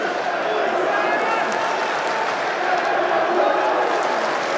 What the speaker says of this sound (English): We can hear and feel the energy of this Abuja audience.